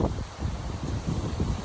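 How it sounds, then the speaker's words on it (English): Strong, gusty wind during a severe thunderstorm in Walpole, Massachusetts, roaring in a steady low rumble with rising and falling surges buffeting the microphone, loud and close throughout. "Really, really strong wind gusts right now."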